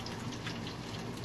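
Steady soft patter of rain beginning to fall, a quiet, even hiss of drops that stays constant throughout with no voices.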